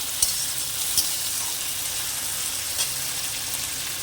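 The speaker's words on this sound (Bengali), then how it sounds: "ওগুলো আমি এর সাথে উচ্ছে আলুর সাথে একটু কষিয়ে নেব ভালো করে" Ground mustard, cumin, chili and onion paste sautéing with bitter gourd and potato in a pan, a steady soft sizzle with a few light stirring scrapes, close and alone without talk.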